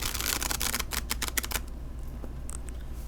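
A Tarot of Japanese Poetry card deck being shuffled, with a quick burst of riffling card flutters in the first second and a half, then softer scattered taps and slides as the cards settle, close and fairly quiet.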